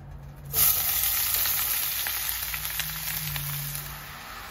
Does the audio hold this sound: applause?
no